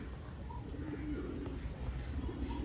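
Old-generation breed pigeons coo softly in a low, murmuring warble, fairly faint against a steady background rumble, with no talk.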